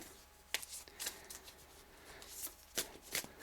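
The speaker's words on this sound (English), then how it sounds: "I'll do a few more shuffles and then I'll choose." Tarot cards are shuffled by hand in quick, crisp riffles, with several sharp flicks and soft slides close to the listener.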